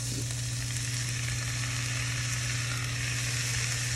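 Tomatoes go into a pan of softened, reduced onions and sizzle with a steady, even frying hiss and a low hum underneath, close and continuous throughout.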